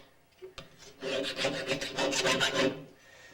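A file rasping across the metal blade of a pottery trimming tool to clear off burrs, a brief scrape followed by a quick run of about ten rhythmic strokes, close and fairly quiet with no talking.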